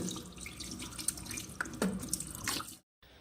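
Tap water runs steadily into a sink during face washing, a continuous splashing stream with a few drips, close and fairly loud, cutting off abruptly near the end.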